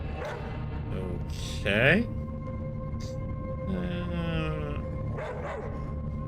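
A dog barks and yips a few times in the ATOM RPG video game, with short sharp barks and a whimpering rise under a steady background hum. A single brief spoken word sits among them.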